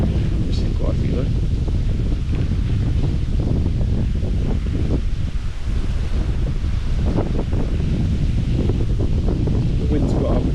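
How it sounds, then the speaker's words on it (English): Strong wind buffets the microphone beside the River Thames at a fishing match, giving a loud, continuous rumbling roar with gusty surges throughout. "The wind's got up again, blowing from my left to right"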